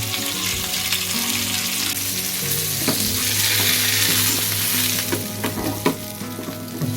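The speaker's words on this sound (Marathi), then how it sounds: "एक साईड शिजला आहे शेकला आहे चांगला भाजला आहे आता दुसरी साईड जरा भाजू दे" Stuffed tambushi fish fries in a pan with a loud, close, continuous sizzle and crackle, with occasional scraping stirs and pops, and no voices.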